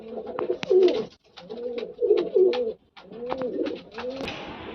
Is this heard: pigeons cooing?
yes